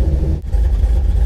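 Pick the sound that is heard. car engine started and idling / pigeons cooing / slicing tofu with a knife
car engine started and idling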